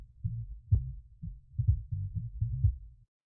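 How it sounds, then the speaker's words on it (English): Sampled bass line sidechained to the kick, heard as deep, low, pulsing thumps that swell and duck in a steady rhythm, fairly quiet and alone. "you can hear it's just the bass line"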